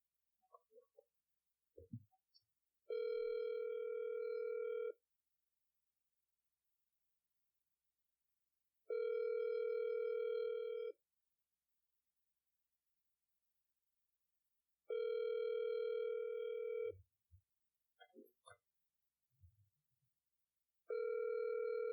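A steady telephone ringing tone sounds in long, evenly spaced beeps, four times with silences between, plus a few faint clicks.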